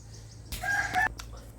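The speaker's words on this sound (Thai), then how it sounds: "เสียงไก่" A rooster crows once at a rural Thai home during a house-warming, a short strained call with a rising then held tone, fairly close and standing out over a steady low hum.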